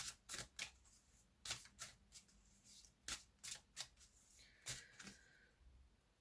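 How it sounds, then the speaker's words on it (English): A deck of cards being handled and shuffled, a series of crisp riffling and snapping bursts spaced irregularly, close and quiet, with no talking. "do you have a message from these cards, Michael?"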